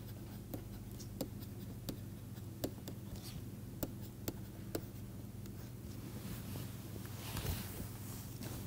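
Writing on a board during a mathematics lecture on determinants: faint, sharp taps and scratches repeating about every half second over a low, steady room hum, with no voices.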